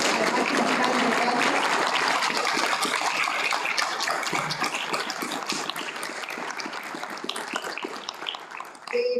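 Applause from an audience at a university ceremony in Chile, sustained dense clapping that fills most of the clip and slowly fades toward the end.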